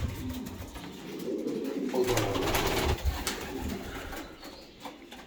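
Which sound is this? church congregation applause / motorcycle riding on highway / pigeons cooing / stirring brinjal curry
pigeons cooing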